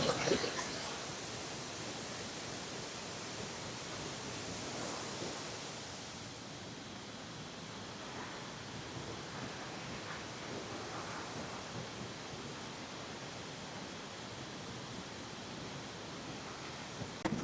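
A steady, loud roar of rushing water fills the whole stretch, broad and unbroken like a waterfall close by, with no voices; Baahubali Waterfalls at Devarapalli.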